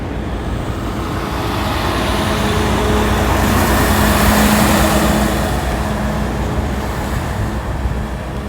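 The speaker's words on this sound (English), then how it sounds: "dirt hauling, rock hauling trucks." Dirt and rock hauling trucks driving past a new home construction site in a Las Vegas neighborhood, a steady broadband roar that swells and fades as a heavy vehicle passes nearby.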